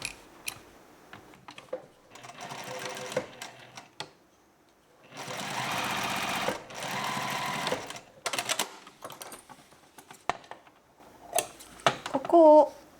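Domestic sewing machine stitching the lower edge of a pants facing in fabric with firm interfacing, running in several short bursts and one longer run between pauses, close and clear with small handling noises.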